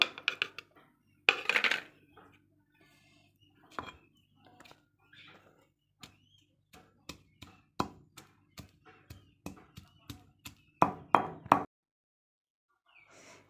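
Mustard greens and green chilies are ground with oil by hand, giving a string of sharp knocks and taps close up, irregular at first, then quicker and more regular before stopping, with quiet gaps between strokes.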